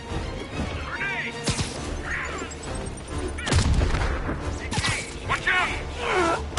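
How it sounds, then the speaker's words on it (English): A grenade blast in Marvel's Spider-Man: a sharp explosive crash midway through a noisy fight, surrounded by whooshes, impacts and other combat effects, with voices shouting over the action. "Grenade!"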